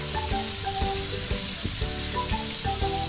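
Garlic and onion sautéing in a pan while cooking pork adobo with coconut milk, a steady bright sizzle punctuated by rhythmic stirring clacks of a utensil, close and fairly quiet.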